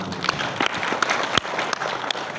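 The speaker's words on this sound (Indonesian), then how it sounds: "Boleh kita bersyukur dan tepuk tangan." An audience at an Indonesian religious lecture claps together, a brisk, moderately loud patter of many hands with a few sharper individual claps standing out.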